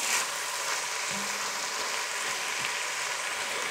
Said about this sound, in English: Get it in there and start stirring it around.